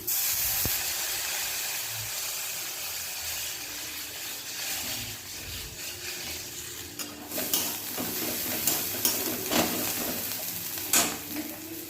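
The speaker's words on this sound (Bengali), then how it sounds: "এবার মশলার মধ্যে বেশ কিছুটা জল দিয়ে দিচ্ছি" Water is poured into spice paste frying in oil for a village-style crab curry, producing a continuous steamy hiss that swells into louder spluttering bursts and crackles in the second half.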